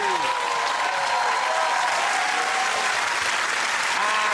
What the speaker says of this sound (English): Give it a round of applause for Russell